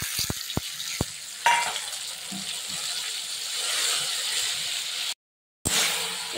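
Bay leaves, slit green chili and water-mixed turmeric stirred in hot oil for urad dal, a steady sizzle with a few sharp utensil clicks at the start and a brief gap near the end.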